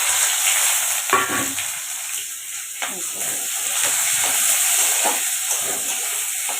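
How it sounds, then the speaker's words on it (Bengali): Onions frying in hot oil for chilli chicken, a steady close sizzle and hiss with a few stirring scrapes and no voices. "এই যে তেল কিন্তু গরম হয়ে গেছে এদিকে কিন্তু আমি পেঁয়াজগুলোকে দিয়ে দেবো"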